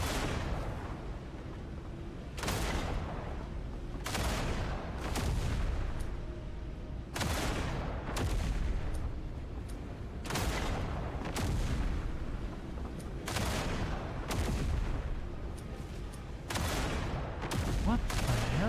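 Gunfire from the video game DNA comes in repeated heavy bursts, each a cluster of loud booming shots separated by short pauses, with a voice talking between the volleys.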